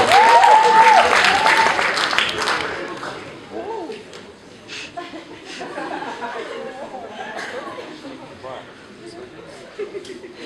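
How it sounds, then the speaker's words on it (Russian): Audience applause for a KVN comedy team at a university quarter-final show, loud at first and then settling into lighter clapping with crowd chatter and a few chuckles. "Ваши аплодисменты."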